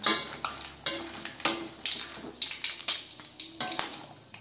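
Metal utensils scrape and clatter in a pan in a quick, uneven rhythm over a steady sizzle of hot oil, close by, as fried peanuts are lifted out and drained.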